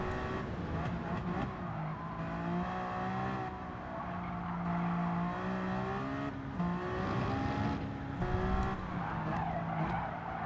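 A small Audi race car in a racing video game drives on with a steady engine drone, gear changes and tire squeal, continuous and fairly loud, with no talk over it.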